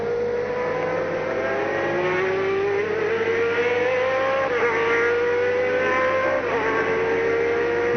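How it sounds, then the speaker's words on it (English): Loud, high-pitched engine whine of race cars, including a Sauber Mercedes, screaming past at the 1991 Le Mans race, pitch sliding as they go by, several machines in quick succession with a constant roar beneath. "Sauber Mercedes coming through"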